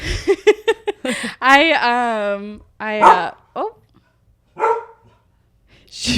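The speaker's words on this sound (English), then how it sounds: "We might have to edit out her barking" A dog lets out a quick series of sharp barks, followed by a longer whining yelp, with people talking in between.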